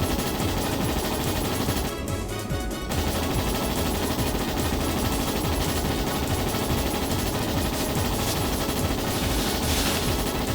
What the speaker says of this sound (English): those guys have proper Gatling guns